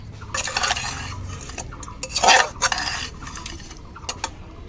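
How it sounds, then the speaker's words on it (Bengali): Fish pieces are rubbed by hand with salt and turmeric in a metal bowl, giving bursts of wet handling and light clinks and clatters of the dish, close and uneven, without speech. "আর এই মাছগুলো আমি এখন লবণ হলুদ দিয়ে একটু মেখে নিচ্ছি।"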